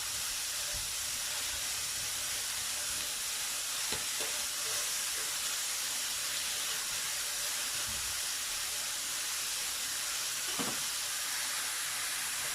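Minced beef patties for homemade burgers fry in a pan, giving a steady close hiss and sizzle with a few sharp crackles and pops, no one speaking.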